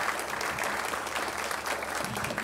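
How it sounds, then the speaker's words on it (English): Steady applause fills the room at a grand opening as a crowd claps for the activity center's benefactor, even and sustained, heard from a little way off. "Let's give it a round of applause for"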